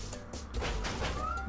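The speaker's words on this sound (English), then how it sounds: "Cat, shut the hell up!" A cat meows in a goat-simulation video game, a short drawn-out wail heard close and fairly loud over a dense background of game ambience.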